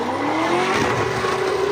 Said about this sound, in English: Engines revving, vehicles spinning, rubber burning.